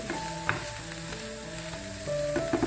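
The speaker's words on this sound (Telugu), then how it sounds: "చూడండి, ఇలా బాగా వేయించాలి ఆనియన్స్ని." Onions sizzling steadily in a hot pan for a gravy, a continuous close frying hiss with a few stirring scrapes and light clinks, no talking.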